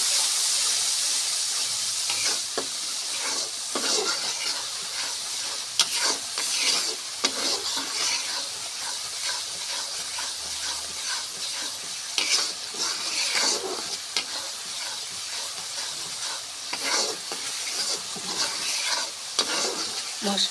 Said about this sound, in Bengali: আমরা সুন্দর করে মশলাটা কষবো।